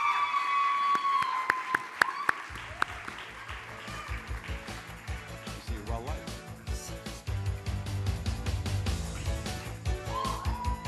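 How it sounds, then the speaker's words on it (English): Audience applause at the 2012 Harmony Award ceremony, a sustained crowd clapping that fills the room for several seconds, with music and voices mixed in around it. "Round of applause for Luis Eduardo Mexicano."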